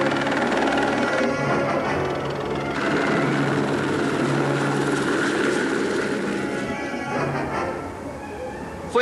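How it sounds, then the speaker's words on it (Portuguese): A helicopter drones steadily with a dense, rumbling engine and rotor roar that holds fairly loud throughout before easing slightly near the end. "Foi apenas um helicóptero,"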